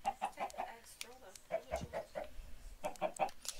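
Chickens in a one-block survival video game cluck over and over in quick, regular bursts, a steady run of close, clear clucks with brief pauses between groups.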